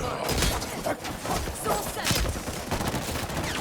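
Gunfire in the shooter video game Highguard, rapid bursts and sustained volleys of shots mixed with thuds, loud and dense, with a voice talking over the shooting.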